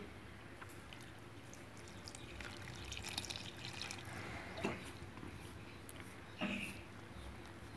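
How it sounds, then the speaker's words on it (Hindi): Water is poured into a bowl of besan (gram flour) already mixed with red chilli, salt and a paste for besan roti dough, giving a faint, close trickle with a few soft drips and no talking. "अब हम इसमें पानी डालेंगे।"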